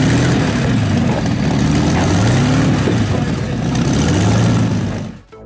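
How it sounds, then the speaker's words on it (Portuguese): A 2.4-tonne 1930 Bentley with a tank-style engine runs through 24 exhaust pipes, giving a loud, steady, low harmonious drone with slowly shifting pitch for several seconds before cutting off abruptly near the end. "um Bentley de 1930 que parece surpreendentemente harmonioso com os 24 tubos de escape"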